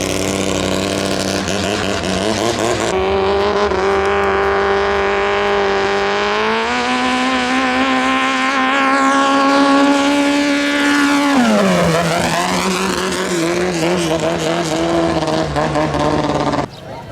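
A large boat engine drones loudly and steadily up close on a boat heading to Ayutthaya, Thailand, its pitch holding, then swooping down and climbing again toward the end.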